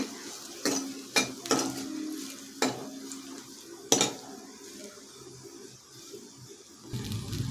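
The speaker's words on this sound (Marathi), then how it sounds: "बारीक केलेलं खोबरं आणि लसूण घालायचं आहे हे थोडंसं लालसर होईपर्यंत परतून घ्यायचं कमी गॅसवरच परतून घ्यायचं आहे" Grated coconut and garlic sautéing on low heat, a soft quiet sizzle broken by several sharp spoon or spatula knocks against the pan, with no talking.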